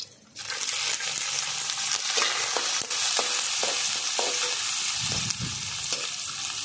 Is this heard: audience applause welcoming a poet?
no